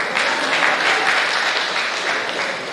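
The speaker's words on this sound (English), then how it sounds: "clap for yourself" Conference audience at a university life sciences research conference breaking into loud, dense applause, many hands clapping steadily across the whole stretch and easing slightly at the end.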